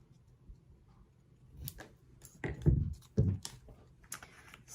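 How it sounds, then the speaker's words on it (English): Scissors cutting through paper card for a handmade junk journal specimen card, a few crisp snips close by with small rustling handling sounds between them, no talking. "I think I'll just use my scissors for that."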